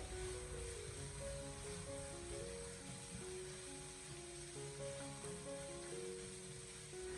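Minced pork stir-fried over low heat in a wok with ginger, scallion, garlic and chili, giving a steady, continuous sizzle and hiss with background music playing over it.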